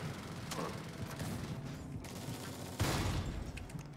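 Shotgun blasts from the roguelike shooter Jupiter Hell arrive as a few sharp, booming reports spaced a second or so apart over a low rumbling game backdrop, moderately loud with no talking.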